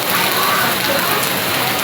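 Rain pours down steadily, giving a constant, dense, close hiss that fills the whole moment without pause.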